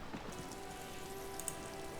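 Steady rain from the video game Disco Elysium, an even, soft hiss with a faint patter throughout, constant and unbroken with no voices.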